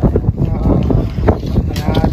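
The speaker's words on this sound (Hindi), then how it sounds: "हवा चल रहा है बहुत अच्छा।" Wind gusts at Gorakhpur Zoo rumble steadily against the microphone, a loud, continuous buffeting with slight surges throughout.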